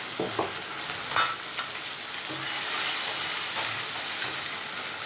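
Ground spice paste hitting hot oil in a pan for a thin rohu fish curry with drumsticks and potatoes, a steady close sizzle and fry with a few stirring clinks and scrapes, no talk.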